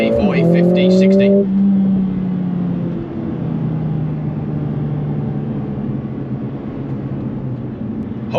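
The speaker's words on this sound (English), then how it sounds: "Race start, release brake to start, go." Mercedes-Benz A45 AMG S hot hatch launching from a race start: the engine note climbs through gear-like rises, loud and close from inside the cabin, then settles into a steady roar with a voice talking over it.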